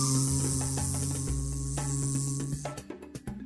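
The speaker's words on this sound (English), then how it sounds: "she saw three tiny bees buzzing around the flowers" A steady insect-like buzz from bees hovering around flowers in a children's animal story, continuous over a low background hum, fading into scattered soft clicks near the end, with no talk.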